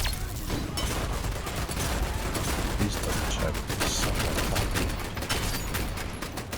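Continuous video game gunfire with pistol shots, a dense crackling barrage of rapid shots and mechanical clatter running without a break at steady loudness.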